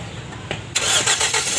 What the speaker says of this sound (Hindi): तो गाड़ी को स्टार्ट करो।